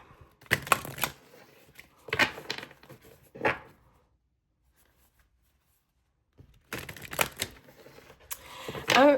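Quick bursts of oracle cards being shuffled, riffling close to the mic in several rapid flurries with a quiet pause in the middle.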